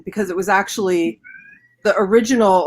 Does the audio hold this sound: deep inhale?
no